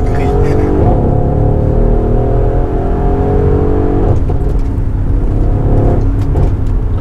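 A Mercedes GLE AMG 63S SUV accelerating hard, its engine roaring loud and steady with rising gear pulls and shifts, heard close up with no talk.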